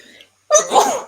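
A single sharp sneeze bursts out after a brief pause, loud and close, preceded by a little quiet talk.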